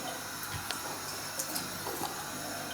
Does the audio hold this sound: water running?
yes